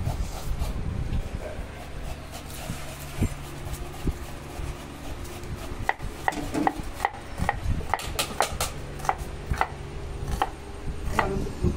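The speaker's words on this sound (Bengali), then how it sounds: "গাজরগুলো কেটে নিচ্ছি" Carrots chopped with a knife on a board, a run of sharp close knocks that starts sparse and grows into a quick, even rhythm of distinct strikes.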